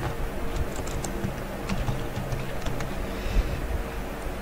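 Keys tapped on a computer keyboard in a classroom setting, a light irregular clatter of keystrokes under steady low background hum.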